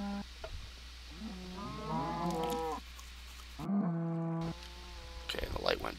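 Cows low and moo in a butcher shop's holding pens, several drawn-out calls rising and falling one after another, some overlapping, over a constant low hum, with a few sharp clatters near the end.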